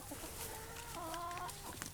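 Backyard chickens cluck softly in a coop, sounding fairly faint and at middle distance. A few drawn-out, tonal calls rise in the middle of the clip over a low, steady background.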